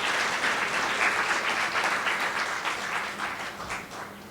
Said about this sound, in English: can we hear a loud round of applause for Mr.